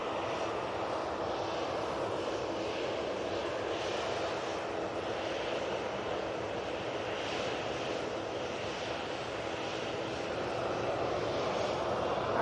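A Piaggio Avanti turboprop moves near Manchester Airport, a continuous, moderately loud engine drone with a gentle pulsing character holding steady throughout.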